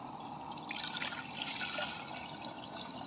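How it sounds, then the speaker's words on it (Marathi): Water pours steadily into a clay pot while ragi ambil is being made, a continuous close splashing trickle running for a few seconds with no talk over it. "तर आता याच्यात काय करायचं याचं पाणी घालायचं"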